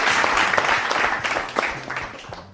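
Audience applause at the Chef Zimajet cooking competition, a dense sustained ovation of many hands with sharper individual claps poking through, loud at first and easing slightly toward the end.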